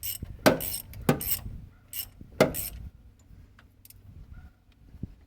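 A ratchet tightening a bolt on an engine near the intake, a few sharp clicking bursts followed by quieter ticks and a lone click at the end, close by with no talk.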